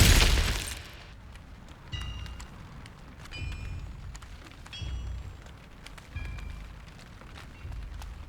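Glacius freezing spell cast in Hogwarts Legacy, heard as a few crisp icy crackling bursts with glassy shimmering tones, repeating roughly every second or so over a low ambient rumble, with no talking.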